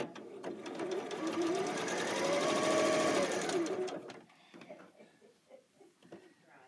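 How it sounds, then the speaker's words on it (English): A sewing machine stitches diagonally across a quilt block, running in a steady, fast mechanical whir for about four seconds before stopping, followed by faint handling clicks. "Now we are going to stitch. We're going to stitch from diagonal to diagonal."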